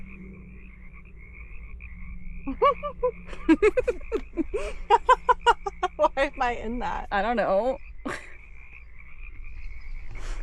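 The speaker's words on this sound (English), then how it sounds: "Can you hear the frogs?" Frogs croak on the Trans-Catalina Trail on Catalina Island, a continuous high chorus running behind a hiker's voice as she speaks and gives a short laugh midway.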